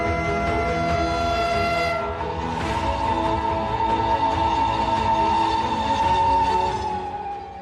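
An Indian Railways train sounds its horn loudly and close with a long, sustained blast that holds for several seconds over the rumbling roll of the train, then fades as it passes.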